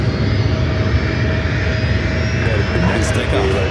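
A United Boeing 757-300 taking off at LAX, a loud continuous jet engine roar filling the scene with people talking over it.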